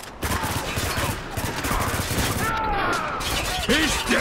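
Sustained cover gunfire in the video game Spec Ops: The Line, a dense, continuous rattle of automatic weapons loud throughout, with shouted voices mixed in over the shooting.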